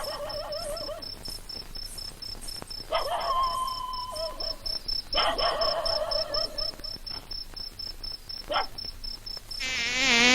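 Mosquitoes whine in a Telugu comedy film scene: a thin, steady, high-pitched buzz runs throughout beneath tonal bursts and other scene sounds, ending in a louder wavering drone.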